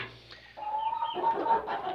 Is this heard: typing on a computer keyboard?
no